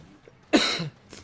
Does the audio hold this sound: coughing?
yes